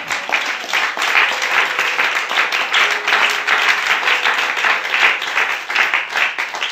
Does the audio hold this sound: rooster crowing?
no